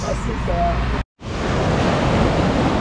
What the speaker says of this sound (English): This is the beach that we were looking for.